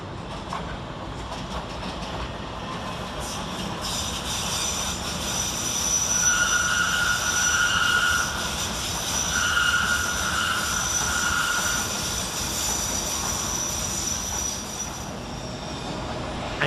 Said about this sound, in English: Next up over on the far side we have an S8 tube stock working the Circle Line, going from Hammersmith through to Edgware Road.